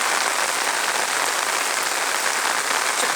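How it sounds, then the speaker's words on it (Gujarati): Heavy rain pours down at midday, a loud, dense and continuous hiss of drops striking surfaces close by, unbroken from start to finish, with no talking. "આજથી ભારે વરસાદ પડી રહ્યો છે"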